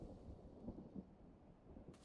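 Distant thunder rumbles low and faint in the Fortnite video game, a soft rolling grumble with brief swells and a light rain-like hiss near the end.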